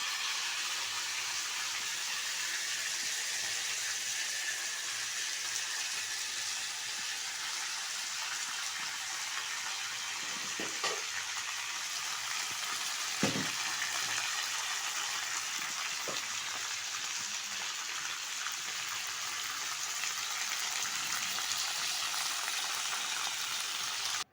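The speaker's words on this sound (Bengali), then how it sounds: "দিয়ে ভালো করে নেড়ে চেড়ে কষিয়ে নিয়েছি সবজিগুলোর সাথে মশলাটা" Ground spice paste stir-frying with tomatoes and vegetables in a pan, a steady hissing sizzle throughout with a few faint clinks of stirring.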